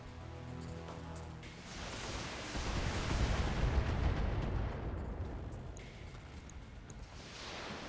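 Mech weapons unloading a full volley on an enemy in the video game BattleTech, deep rolling booms and a roaring barrage that swells and fades, loud and close with almost no talking.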